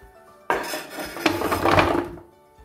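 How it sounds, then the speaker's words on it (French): Kitchen knife chopping a courgette into pieces on a board, a loud knock followed by about a second and a half of clattering, scraping contact, with no talk. "je la coupe en 2 et en 3"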